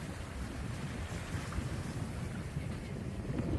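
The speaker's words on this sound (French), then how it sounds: "Il y a du vent" Wind blows steadily across a boat at sea, a dense low rumbling roar buffeting the microphone, continuous and fairly quiet throughout with no voices.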